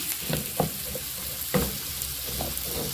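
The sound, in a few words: onions frying in a pan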